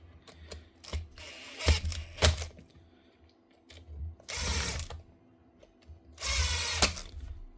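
A power driver spins out the last two screws of a power tool under repair, several short whirring ratchety bursts with pauses between, close and fairly quiet.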